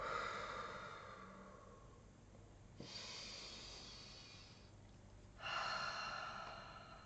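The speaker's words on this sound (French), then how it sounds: "Encore 2 grosses respirations." Two slow, deep breaths taken close to the microphone, a long airy inhale-exhale followed by a pause and a second breath, soft and breathy against a quiet room.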